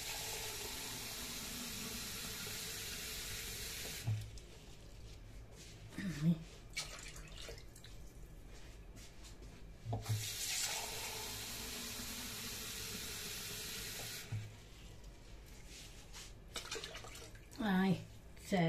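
Water poured into a cooking pot of meat in sauce, a steady hissing stream that starts and stops several times, with clinks, bubbling and a voice talking over parts of it.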